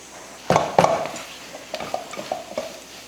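A utensil scrapes and stirs masala in a pan with several quick, uneven strokes, a faint sizzle underneath.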